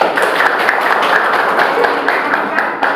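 Dense clapping from a class group during a classroom presentation, a continuous patter of many hands applauding together at steady loudness.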